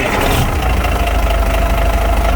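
A Caterpillar 3406B diesel engine, fitted with freshly changed belts, idles loud and close in a steady, rough, low rumble with a faint knocking edge.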